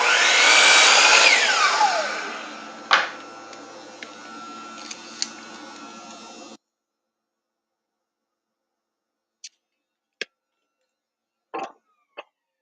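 A power tool cuts wooden sideboards with a loud, high whine that winds down over several seconds, then leaves a low running hum. Silence follows, broken by a few sharp clicks and knocks.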